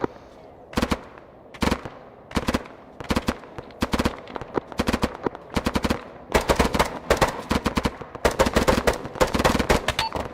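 Rapid automatic gunfire bursts from an Arma 3 military battle, sounding as repeated loud volleys spaced unevenly, growing denser and more continuous toward the end.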